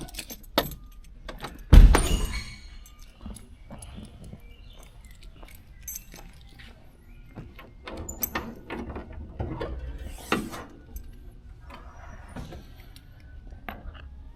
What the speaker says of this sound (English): We can pop the trunk and the hood.